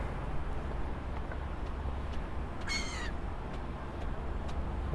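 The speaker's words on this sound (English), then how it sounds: "There seem to be some gulls guarding it." A single gull call rings out briefly from a rooftop overlooking the Toronto waterfront, rising over a steady low rumble of city and wind. It is moderately distant and has no talking over it.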